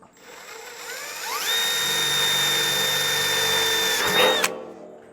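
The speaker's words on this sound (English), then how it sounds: "drill my pilot holes for the air intakes" A power drill whines steadily for about three seconds as it bores pilot holes for air intakes in a steel 55-gallon drum smoker, then spins down, loud and close with no talk.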